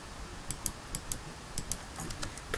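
Computer keyboard typing, with sparse, irregular key clicks coming at an uneven pace, fairly close and fairly quiet, and no voices over them.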